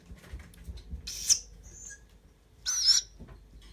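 A tawny owl chick begging for food gives two harsh, hissing rasps about a second and a half apart, loud and close, with a faint whistle-like note between them in an otherwise quiet room.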